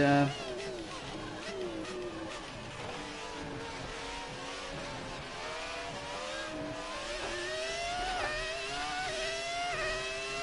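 A 2004 Ferrari race car engine screams at high revs in a racing game at Monza, whining steadily as its pitch climbs and drops through gear changes.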